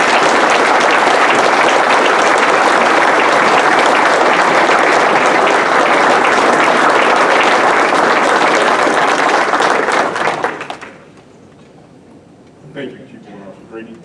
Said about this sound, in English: please join me in a rousing applause for a tremendous leader and Master Chief, Caesar Hill.